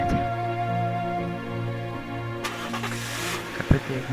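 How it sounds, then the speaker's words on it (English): A car engine is started and revved hard for a hasty getaway: a steady idling hum gives way to a loud, broadband roar of acceleration midway, with a sharp knock near the end. "I put the engine in ignition in a hurry and floored the pedal"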